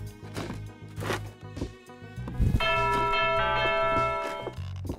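A big bell rings loudly in a dungeon-crawling video game, preceded by a few knocks and footsteps, then one sustained resonant toll that rings out and slowly fades.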